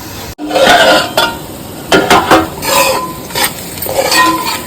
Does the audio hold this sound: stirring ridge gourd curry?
yes